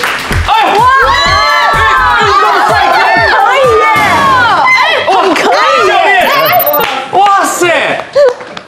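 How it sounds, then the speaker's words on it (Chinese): A studio audience on a Chinese dating talk show claps and cheers loudly and close up, with excited shouts and squeals rising over the applause and a voice speaking through it. "掌声欢迎！"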